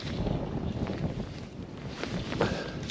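Steady wind blowing outdoors beside a lake during winter trout fishing, a constant broad rushing buffet across the microphone with no clear pauses.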